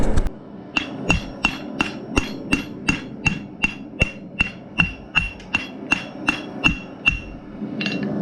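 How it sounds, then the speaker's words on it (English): A hammer strikes a heated rivet on a pair of side cutters being made into scrolling pliers, giving about eighteen evenly spaced, ringing metallic blows close by. "I like heating those up because it seems like it mushrooms down a lot better than when I do it cold"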